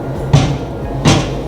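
A door at a campsite washroom in Croatia being pushed shut twice, two short thumping knocks about three quarters of a second apart, close by over a low hum.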